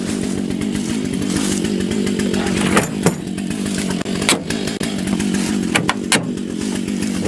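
A Stihl MS 661 C-M chainsaw idles as it warms up, its engine putting out a steady, loud, close rumble broken by a few brief clicks and knocks, with no talk over it.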